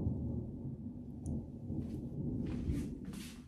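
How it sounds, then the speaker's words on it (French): A thunderstorm rumbles in low, rolling thunder at a distance, with a few brief brighter crackles near the end and no speech. "il y a de l'orage de malade."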